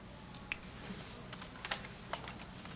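Quiet typing on a computer keyboard, a handful of soft irregular key clicks over faint background hiss.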